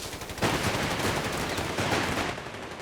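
Light machine gun fire in the wartime strategy game Company of Heroes 3, a dense, continuous burst of rapid shots that runs loud and steady for a couple of seconds with no voices over it.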